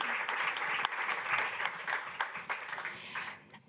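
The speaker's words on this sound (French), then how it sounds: "On peut les applaudir." An audience at a conference on renovating school sports facilities breaks into sustained applause, dense and fairly close, which thins out toward the end.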